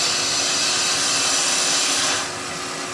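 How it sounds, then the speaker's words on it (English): A small 6mm bowl gouge and then a skew cut wood spinning on a lathe, giving a steady loud hissing scrape that eases slightly near the end as the cut lightens. "just using the small bowl gouge, little 6mm bowl gouge, to rough down and then skew cut"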